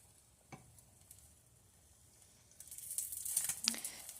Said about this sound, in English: now the eggs are ready to be flipped